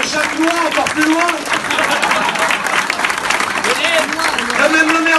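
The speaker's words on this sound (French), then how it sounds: "on peut les applaudir très fort, les amis qui viennent de loin" Audience applause at a campaign office opening, steady loud clapping filling the whole stretch, with voices and cheers mixed in over it.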